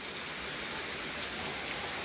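Heavy rain pours down steadily on a stormy day, a dense, even hiss of drops hitting surfaces with no pauses and no voices over it.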